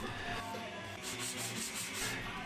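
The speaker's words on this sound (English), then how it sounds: "I cleaned up the edges of the gates with a block plane followed by a bit of sanding." Close, rhythmic hand-sanding strokes rubbing across the planed edges of homemade wooden blast gates for a dust extraction system, repeated back-and-forth scrapes with no talking.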